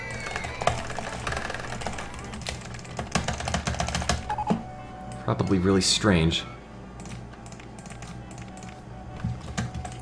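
A computer keyboard clicks in rapid bursts of taps during a Roller Coaster Tycoon session, close and busy, mixed with game sounds while a person talks over it.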